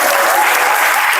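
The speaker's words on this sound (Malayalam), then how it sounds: "എന്താ കയ്യടി" An audience bursts into loud, continuous applause during a Malayalam stage talk, many hands clapping densely and evenly without a break.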